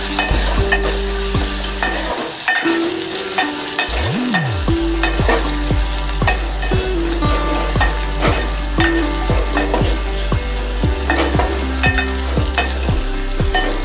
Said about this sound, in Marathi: लाल मिरच्या, कढीपत्ता, हिंग आणि आता आपण कांदा टाकूया